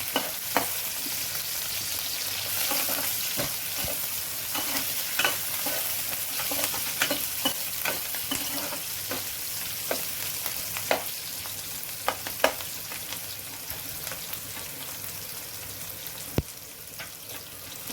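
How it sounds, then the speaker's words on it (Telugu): Onions sizzle steadily in a pan for a buttermilk curry, with constant frying hiss and repeated scrapes and taps from stirring throughout, close and clear with no talking. "మజ్జిగ పులుసులోకి ఉల్లిపాయ ఎక్కువగా వేగనివ్వకండి"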